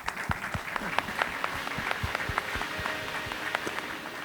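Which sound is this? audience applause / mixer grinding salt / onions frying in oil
audience applause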